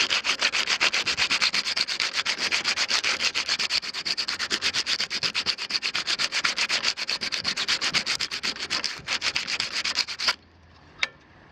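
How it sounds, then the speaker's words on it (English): Sandpaper worked by hand over the surface of a telescope pier tripod before epoxying: fast, even back-and-forth rubbing strokes close up for about ten seconds, then stopping, followed by one small tap. "So I'll just take this sandpaper and go over it."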